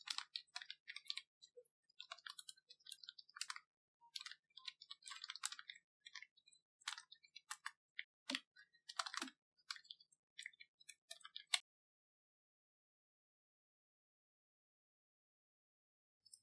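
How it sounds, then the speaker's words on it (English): Someone types a program on a computer keyboard, producing quick, light key clicks in irregular bursts. They sound faint and close, then stop abruptly into silence near the end. "Now let's open notepad and type our first program."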